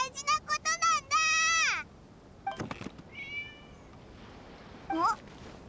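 A cat in Genshin Impact meows repeatedly, a quick series of short calls followed by a long drawn-out meow, then quieter mews and one more call near the end, with faint game sounds between.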